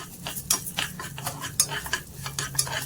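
Broken wheat (lapshi rava) roasting in ghee inside a pressure cooker, stirred briskly with a metal spoon that clinks and scrapes in quick rhythm over a soft sizzle.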